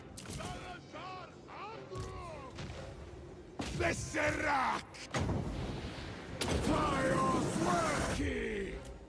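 Artillery barrages boom in the Siege BETA video game, a Hobgoblin army facing Zhatan, with heavy blasts and bursts arriving in waves across the scene amid yelling and game voices.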